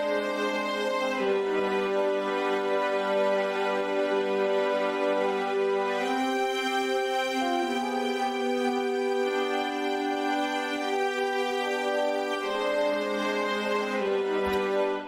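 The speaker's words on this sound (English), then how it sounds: "here's my string section, and when you play it, it sounds like this." A MIDI string section plays a sustained looping chord progression with natural reverb. The full, steady held chords change every few seconds, with no talking throughout.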